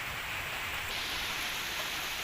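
Cold rain falls outdoors beside an open-air cooking spot, a dense, even hiss of drops on surfaces, steady and fairly loud with no voices.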